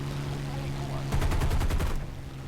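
Machine guns of a P-51D-5 fighter in a realistic air-combat video game fire one fast rattling burst of about a second, loud over a steady engine drone that continues before and after.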